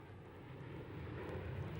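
Aircraft flying close formation circuits in a display at the RAF Leeming Air Fair in 1995, a steady broad engine roar that swells slightly as the formation passes.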